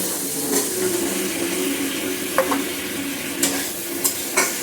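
Potatoes go into a simmering curry of dried hilsa fish with vegetable stems: a soft bubbling sizzle with scraping stirs and a few sharp clinks of a utensil against the pot.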